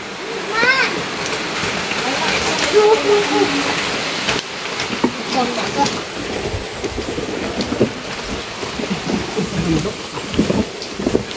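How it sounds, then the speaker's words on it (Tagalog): Heavy rain pours steadily with rumbles of thunder, while people talk close by under the downpour. "Umuulan na."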